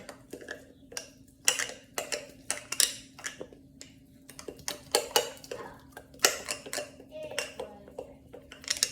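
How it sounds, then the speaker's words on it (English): Bread starter being stirred in a container, a quick series of close scraping and clinking strokes of a utensil against the sides, irregular but continuous, over a faint steady hum. "I'm gonna stir this together"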